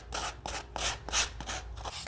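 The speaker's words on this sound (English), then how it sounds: "So I like to use a sanding block. So I'm just gonna sand away." Sanding wood by hand with a sanding block to distress the ends for a rustic look, heard as a series of about seven close, rhythmic rasping strokes, each a short broadband scrape, with no talk.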